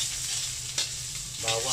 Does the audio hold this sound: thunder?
no